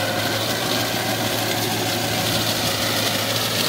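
A New Holland Simba 30 HP tractor runs in low second gear under load, giving a dense, steady engine drone with a constant low hum, heard close and alone.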